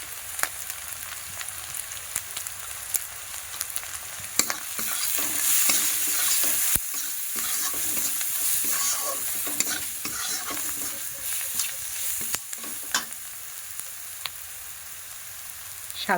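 Spices such as cumin powder and turmeric frying in a pan for a Bengali fish dish, stirred continuously with a utensil, producing a steady close sizzle and frequent scraping, clattering strokes without any talk.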